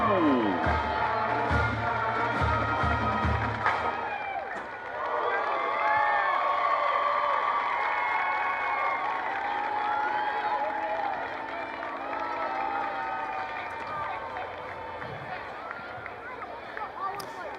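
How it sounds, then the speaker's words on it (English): A stadium crowd at a Texas high school varsity football game applauds and cheers the Poteet Varsity Bells drill team, a sustained roar of distant cheering, shouts and scattered clapping with talk running over it. "Ladies and gentlemen, one more round of applause for your Poteet Varsity Bells."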